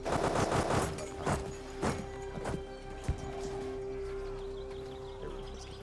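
Battle sounds from Europa Universalis IV: a dense volley of gunfire and booms with galloping hooves, loud at first and then thinning into scattered shots over a steady tonal hum, no talk.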